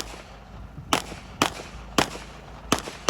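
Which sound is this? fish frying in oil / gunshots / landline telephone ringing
gunshots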